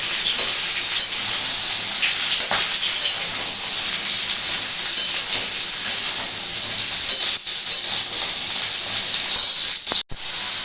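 Sliced ridge gourd fries in a hot pan with a loud, dense, unbroken sizzle and hiss, close up and steady throughout, with a brief clatter near the end and no talking.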